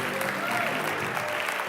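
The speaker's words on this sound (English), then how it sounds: "Big round of applause for the Starship team" A crowd at a tech hackathon pitch event applauds a startup team, steady dense clapping filling the room throughout the short moment.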